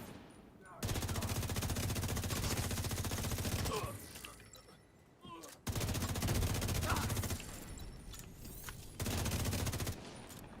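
Shotgun fire in a PvE video game comes as dense bursts of rapid blasts in three long stretches separated by brief lulls, loud and continuous.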